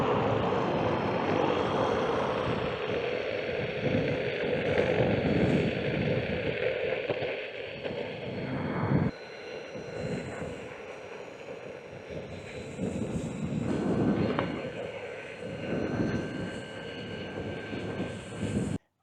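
A Meepo MLR electric skateboard ridden flat out at full throttle produces a steady roar of wind rush with a thin motor whine, continuous and loud for about nineteen seconds, with no talking.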